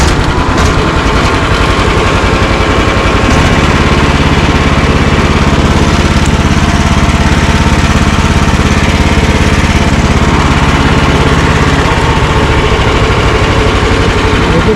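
A Chinese mini excavator's engine running steadily, a loud, close, continuous diesel chug with a mechanical rattle and a slight change in pitch partway through, no speech.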